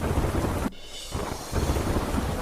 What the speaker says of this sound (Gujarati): રાજસ્થાનના અજમેરમાં જળબંબાકાર ધોધમાર વરસાદ થતા અનસાગર તળાવ થયું ઓવરફ્લો